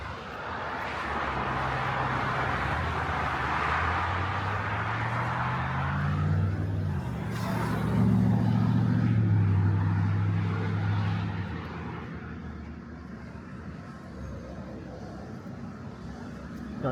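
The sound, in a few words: road traffic passing on an overpass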